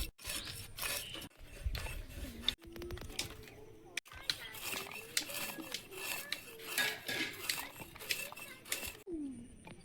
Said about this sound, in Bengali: এবার এই মাছটা কেটে নেব